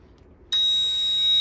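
A CMR LD4-2V water leak detection system goes into alarm, a steady high-pitched electronic tone starting abruptly after a short quiet pause and sounding continuously and loudly to the end.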